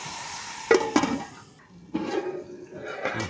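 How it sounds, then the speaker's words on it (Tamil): Liquid for a ponyfish curry in yellow coconut milk is poured into a cooking pot in two short, close bursts of splashing and sizzling. "சரி, ஊற்ற போகிறேன்."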